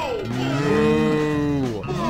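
A cow moos in the Bully video game, one long, loud, drawn-out lowing call with a rising then falling tone, heard alone with no talk.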